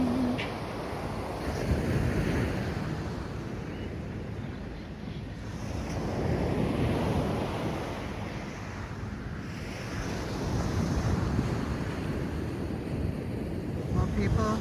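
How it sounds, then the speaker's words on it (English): Ocean surf rolls and crashes steadily onto a beach in slow swells, with wind buffeting the microphone throughout and no voices present. "Just wanted you to enjoy the crashing sounds of the waves."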